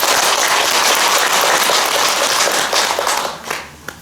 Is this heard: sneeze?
no